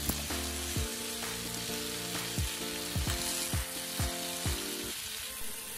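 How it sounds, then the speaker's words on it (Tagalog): Marinated chicken inasal sizzling on a preheated grill, a steady close frying hiss with a series of sharp clanks and scrapes as pieces are laid down, no voices. "Just make sure guys na preheated ang grill bago natin isalang ang ating chicken"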